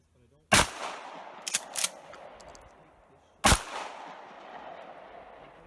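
Three loud, sharp shotgun blasts fired at close range with experimental dice rounds: one at the start, a quick pair of smaller reports in the middle, then another heavy blast, each fading into room echo.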